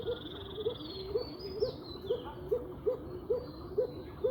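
A young male pigeon coos in a steady repeating rhythm of soft, low calls, roughly two per second, close by over a constant background hum.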